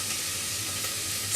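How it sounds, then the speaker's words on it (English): Onions sizzle steadily in a hot pan while tomato soup is being made, a continuous close, bright crackling hiss with no voices. "sizzling quite nicely."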